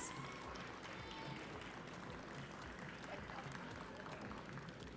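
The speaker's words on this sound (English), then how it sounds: "Round of applause again for all of our winners." Sustained applause from a large audience at a youth awards ceremony in Tobago fills the space, a dense, even wash of clapping that continues throughout.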